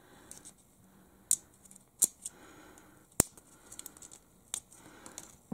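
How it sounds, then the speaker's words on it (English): Scissors make several sharp, separate snips while trimming a bracket, each cut a crisp close click spaced irregularly, with faint rustling and handling noise between them in an otherwise quiet room. "I'm just going to trim the bracket ever so slightly."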